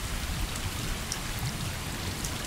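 Steady rain falls in the video game Stray, a dense, even hiss of drops pattering on surfaces without pause, with no voices.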